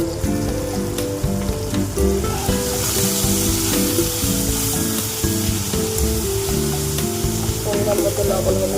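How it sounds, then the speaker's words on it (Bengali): Potatoes fry in a pan for a Bengali drumstick-flower dish, giving a steady, close sizzle throughout with soft stirring, under continuous background music. "আলুটা ভাজা ভাজা হয়ে গেছে"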